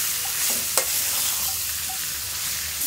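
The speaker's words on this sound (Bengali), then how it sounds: "কিছুক্ষণ মিষ্টি আলুগুলো ভেজে ভুজে নিয়ে তারপরে দিয়ে দিতে হবে তেঁতুলের কাঠটা" Sweet potatoes fry in a pan with a continuous close hiss and sizzle, broken by a few faint stirring clinks.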